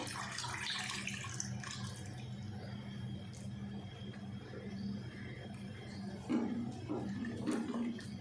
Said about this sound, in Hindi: अब इसमें डाल देंगे जो हमने यखनी अलग से नितार के रखी थी।